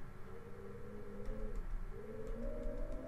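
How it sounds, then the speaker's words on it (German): A raven's call in the video game Pocket Mirror: soft, warbling, cooing tones repeated in a slow rising and falling pattern, heard alone and close. "dieses Schirpen ist, glaube ich, von der Rabe"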